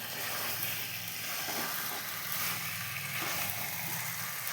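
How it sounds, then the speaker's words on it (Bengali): Chicken pieces and potatoes sizzle steadily as they are stir-fried in a pan for chicken kosha, a continuous close frying hiss broken by faint scraping and stirring, with no voices. "এবার মাংসটা কষে নেব মাংসটা এর মধ্যে আলুটা দিয়ে দিলাম আলুটাকেও ভালোভাবে নাড়ি চাড়িয়ে কষে নেব"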